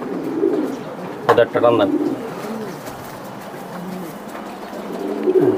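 Racing pigeons coo in low, throaty repeated calls, close by, while someone speaks over them and some handling noises break in partway through.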